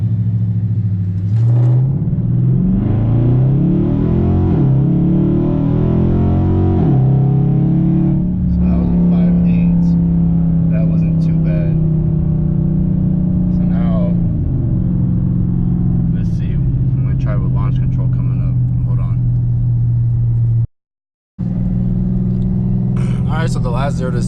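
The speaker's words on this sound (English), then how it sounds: "You rev up my RPMs." A Dodge Charger engine in sport mode with traction control off revs loudly and repeatedly before a launch, its deep rumble rising and falling close by.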